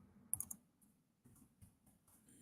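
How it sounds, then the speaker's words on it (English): Quiet clicks of typing on a computer keyboard come in soft, irregular bursts, with a sharper tap near the start and nobody talking. "That's just me typing."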